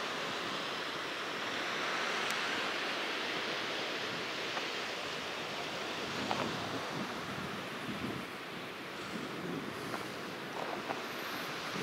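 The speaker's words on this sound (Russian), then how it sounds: "море сегодня немного штормит" Waves of a slightly stormy sea wash steadily against the rocky Crimean coast at Meganom, a constant broadband surge with wind gusting across the microphone.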